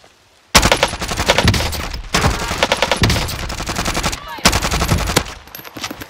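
Rapid bursts of machine gun fire in a Call of Duty match, three loud sustained volleys with short gaps between them, close and dominant.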